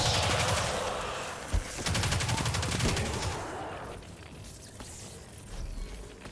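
Rapid gunfire and rocket blasts from Destiny 2 combat in a lost sector, a dense burst of shots for the first few seconds that thins into scattered reports and a lingering rumble.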